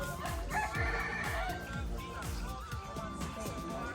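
Chickens cluck in repeated bursts while a rooster crows nearby in a rural yard, the calls fairly close and overlapping, with people talking in the background.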